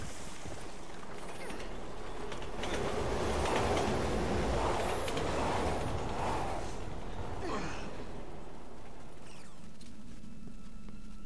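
Subway train rumbling in the game Resident Evil 6, a dense continuous roar of rolling metal and wind that swells in the middle and stays loud throughout, with faint breathy sounds mixed in.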